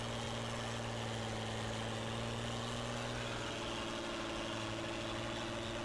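Tractor engine idling in Farming Simulator 19, a faint, steady mid-low hum with constant tonal drone throughout and no talk.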